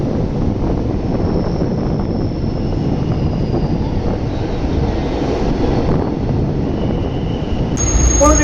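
Steady low rumble of a Chennai local passenger train running along the tracks near Puzhuthivakkam station, continuous and fairly loud, with wind buffeting; a faint whistle-like tone enters near the end.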